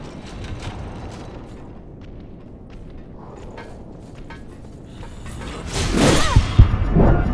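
A key turning in a door lock in the video game Code Vein, a short mechanical clack and ratcheting click rising over a low ambient bed near the end.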